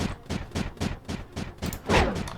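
An ominous explosion in Creeper World 4 comes as a rapid series of about ten evenly spaced, booming bursts, close and moderately loud, with a bigger, longer blast near the end.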